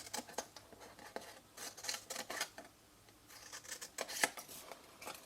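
Scissors snip through paper while a square is cut into shape for a 6x6 paper gift bag, giving a run of quick, crisp, close cuts in irregular bursts with short pauses between them.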